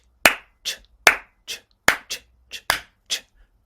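Crisp, close hand claps on the main beats, four of them, alternating with softer off-beat "ch" sounds made by a voice imitating a hi-hat, giving an even, syncopated pattern in a quiet room.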